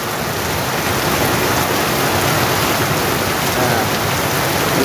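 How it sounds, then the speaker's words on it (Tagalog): Muddy water gushes forcefully out of a hole, a loud, dense, unbroken rushing and splashing like heavy rain. "Ang lakas ng tubig, oh."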